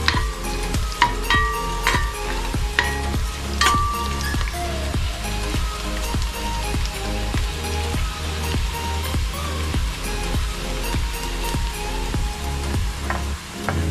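Minced garlic goes into a hot pan for ginisang papaya and sizzles loudly in oil, with repeated rhythmic scraping and tapping of a spatula stirring over the steady frying crackle.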